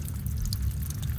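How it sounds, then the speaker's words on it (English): Water from flushed toilets rushes through a drain pipe during a slip coupler repair, a steady low gurgling flow close by with faint dripping above it. "would you stop flushing the toilets up there, people?"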